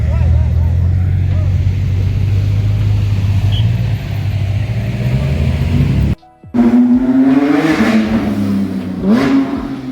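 A Bugatti Chiron supercar driving on the road at a supercar gathering, its engine revving and rumbling loudly up close before a brief cut, then more rising engine notes with what sounds like speech in the mix.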